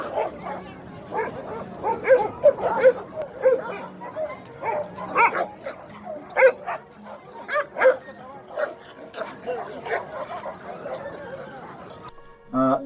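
Hunting laika dogs at a kennel bark and yip repeatedly in overlapping bursts, with some whimpering mixed in, moderately close and busy throughout.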